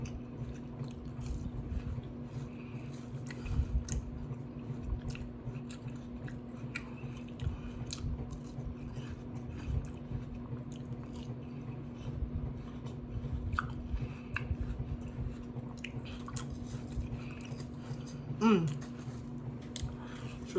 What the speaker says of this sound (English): Watermelon's just chewing water